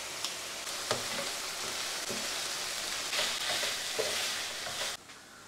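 Sausage and garlic cloves frying in a pan on a home stove, crackling sizzle with frequent stirring scrapes and spatters, close and steady with no one talking, ending abruptly.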